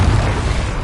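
A Confringo fire spell blasts in Hogwarts Legacy, a loud dense explosive burst with a deep rumbling low end that fills the whole moment and stays heavy without a clear decay.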